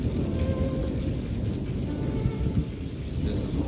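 Thunder and heavy rain from close positive lightning strikes, a dense continuous downpour with deep rolling rumble underneath, loud and near, no voices.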